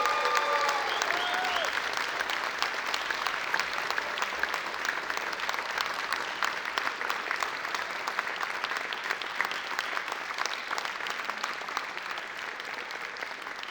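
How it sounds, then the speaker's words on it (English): Long, steady round of audience applause at a university distinguished alumni ceremony, dense crowd clapping that holds evenly throughout and tapers only slightly at the end. "please join me in giving him yet another round of applause for his exceptional service"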